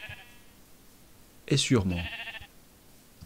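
A sheep in a video game lets out a single short, wavering bleat in the middle of the clip, with someone speaking French quietly around it.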